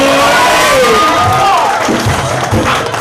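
Audience at a Thai regional stage show claps and cheers in a loud, dense crowd roar, with shouts rising over steady clapping and a voice briefly audible through the din.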